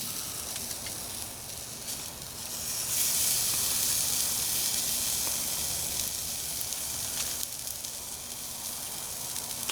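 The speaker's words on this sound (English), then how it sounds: "I'm going to spin this around and I'm going to put the burgers on this side" Burgers sizzling on a spinning-grate grill give a steady, close hiss and crackle that swells slightly partway through and runs throughout without talk.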